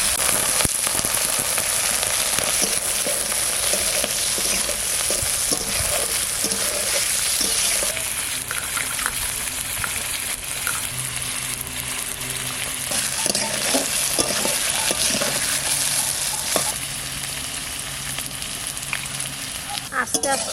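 Panch phoron spices crackle and sizzle steadily in hot mustard oil, a dense continuous frying hiss with scattered pops and occasional stirring scrapes, close and fairly loud throughout.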